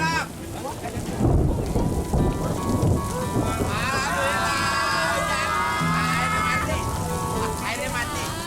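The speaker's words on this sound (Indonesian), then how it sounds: "Sial, mereka ngeluarin hujan." Rain and thunder in an animated fight scene: heavy rain hisses steadily while deep thunder rumbles swell early on, joined by whooshing effects, with voices talking over it.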